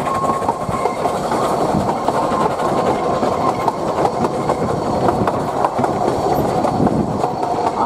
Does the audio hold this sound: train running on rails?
yes